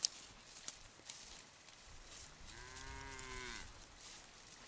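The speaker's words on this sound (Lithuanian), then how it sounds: "Čia telyčia ir jos veršis eina." A heifer walking with her calf gives one clear, sustained moo of about a second, close by, after a few light knocks and footsteps on a farm, with no talking.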